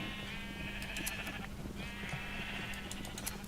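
Video game sheep bleating loudly in two long overlapping bursts with a short gap between, over a constant low background hum, no voices.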